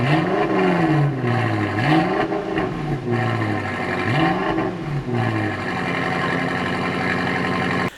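BMW F13 M6 fitted with an Akrapovic exhaust, revving repeatedly in three rising and falling sweeps before settling into a steady, loud idle-like drone, close and unaccompanied.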